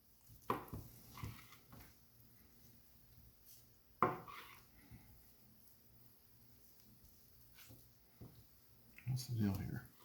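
Knife working through tender smoked brisket burnt ends on a board, a few soft scattered cuts and knocks with quiet gaps between them, close by and fairly faint.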